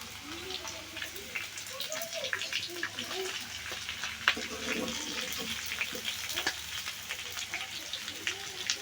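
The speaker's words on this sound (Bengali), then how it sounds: "একটু মাছ ভাজবো না।" Hilsa fish pieces fry in hot oil in a pan, giving a steady soft sizzle and crackle with scattered pops. It is quiet and continuous, with faint voices in the background.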